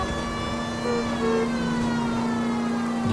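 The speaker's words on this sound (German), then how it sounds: "Haben schön freie Fahrt durch unsere Sirene" Police car siren in the video game L.A. Noire wailing steadily with a car engine underneath, moderately loud and continuous for a few seconds.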